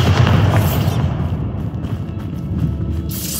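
A Bombarda spell blast in a Harry Potter video game, set in a mine: a loud, deep boom rumbling low and broad for a few seconds, its bass tail fading under dense noise.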